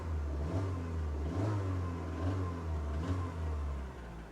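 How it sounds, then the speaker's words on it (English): A car engine at a Copart salvage yard revs up several times in a row, each rise and fall of the rumbling motor repeating about once a second, moderately close with no one talking. "Let's give it a rev."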